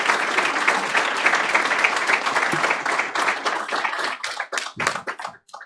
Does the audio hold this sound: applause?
yes